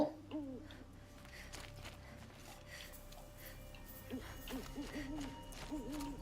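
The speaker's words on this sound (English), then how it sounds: "Owl?" An owl hoots repeatedly in the video game Horizon Zero Dawn, the soft low calls recurring at a moderate distance over a steady ambient game soundscape.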